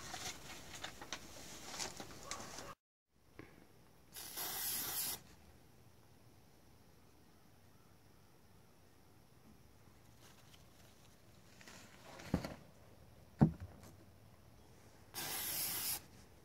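Glitter is blown onto fresh flowers in short airy puffs, a few soft breathy hisses separated by quiet pauses.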